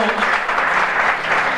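A church congregation at an ordination service claps steadily and densely, a close, continuous wash of hands with voices mixed in.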